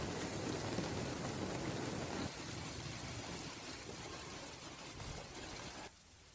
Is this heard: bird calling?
no